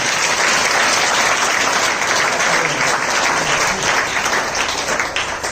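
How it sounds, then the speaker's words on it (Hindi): Loud, dense applause from a large church congregation at Easter, sustained and even throughout, with a few voices faintly mixed in. "जोरदार ताली बजाओ।"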